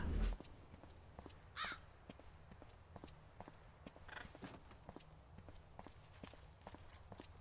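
A crow caws a few times in the Silent Hill Downpour video game, faint against a steady ambient background with rhythmic footstep-like clicks throughout.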